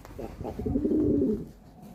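Pigeons coo softly and close by, a low throaty rolling call that swells and then fades across a couple of seconds, with no talking over it.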